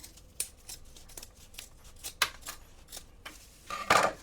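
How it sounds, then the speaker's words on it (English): Scissors snip through fabric for a sewn backpack in a quick, quiet series of crisp cuts, ending in a louder burst of rustling material. "this I'm going to cut down now right to the size that I need it"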